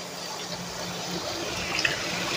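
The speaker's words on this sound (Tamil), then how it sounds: "வெந்த நேரத்தில் எடுத்து வச்சிருக்கிற இந்த புளி தண்ணி ஊற்றிடலாம்" Tamarind water being poured into a simmering brinjal gravy for biryani, a soft continuous liquid stream over a low kitchen background, steady and close for a couple of seconds.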